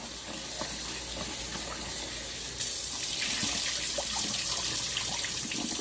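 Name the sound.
tap water running while rinsing potatoes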